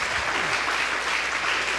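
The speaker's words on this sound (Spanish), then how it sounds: "Dale un aplauso al Señor, hermano." Church congregation applauding at a Spanish-language sermon, a steady, dense wash of clapping filling the whole stretch at even loudness, with no talk over it.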